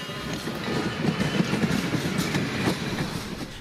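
A Strasburg Rail Road steam train passes close by, hauling either vintage freight cars or passenger cars, with a steady rumble and rhythmic clickety-clack of wheels on track, alone without talk.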